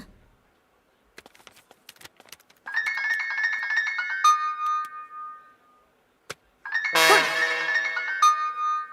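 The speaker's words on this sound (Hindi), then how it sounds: "अरे अंजनी काहे खातिर फोन करत आड़ी?" A melodic electronic phone ringtone plays twice in repeating bursts, loud and close, after a few faint clicks.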